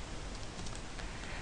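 Keystrokes on a computer keyboard as a terminal command is typed on Linux Mint, a steady run of soft, close clicks over light background hiss.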